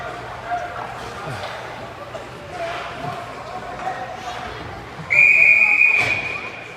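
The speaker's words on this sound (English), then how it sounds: "and a whistle as it's stuck on the net, I believe." A referee's whistle at a youth ice hockey game sounds as a loud, sharp blast near the end, over arena noise while a commentator talks throughout.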